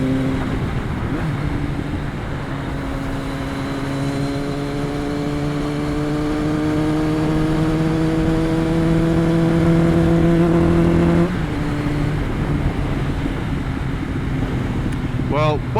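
A 1999 Kawasaki ZRX1100 motorcycle, running poorly after storage, drones steadily while riding. Its engine note climbs in pitch through several rising revs, then drops back, loud and close.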